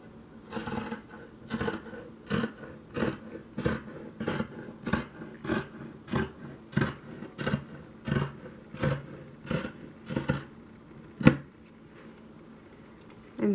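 Scissors slicing through linen fabric for a pillow, about seventeen evenly spaced crisp snips close by, one every half second or so, then a pause with a single sharper click near the end, no talk.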